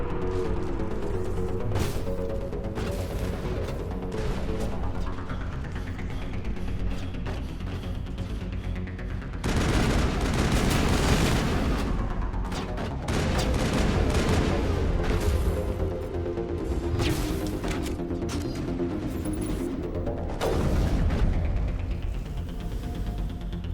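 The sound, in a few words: gunfire shooting a shield in the video game Mass Effect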